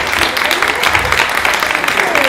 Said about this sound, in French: On peut vous applaudir ça aussi.